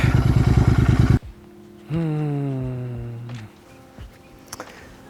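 A Continental GT 650 motorcycle engine thumps loudly at idle in a rapid, even pulse for about a second, then cuts off. A quieter rising and falling tone follows, along with faint clatter.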